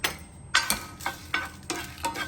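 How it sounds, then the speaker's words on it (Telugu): Crushed garlic, dried red chillies and tamarind fry in a pan for a spice powder, with repeated scraping stirs about every half second over a light sizzle, close and fairly loud, with no talk. "వెల్లుల్లిపాయ కూడా వేయించుకోవాలి"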